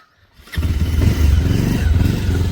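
A motorcycle engine fires up after a moment of quiet and settles into a loud, close, throbbing idle with slight revving, with no voices.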